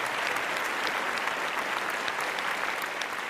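A studio audience at a live television show applauds Elio and Maestro Enrico Melozzi, a dense, continuous wash of clapping from many people, steady and close.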